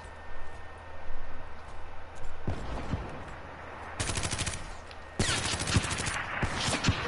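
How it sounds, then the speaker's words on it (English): Rapid bursts of machine-gun fire in a video game shooter, growing louder and denser partway through, with sharp cracks repeating under a background hum. "Fine, I'm using a machine gun now."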